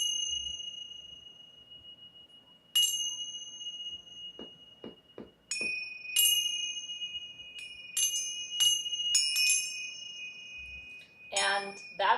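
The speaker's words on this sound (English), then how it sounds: "you play them by holding about an inch above the actual bell" Bright metal bells are struck several times, each ring sustaining and overlapping the last, with a few soft knocks between strikes and a closing jingle.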